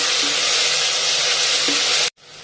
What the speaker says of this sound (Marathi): एक टमाटा कापून टाकते छान तेलावर परतून घ्यायचं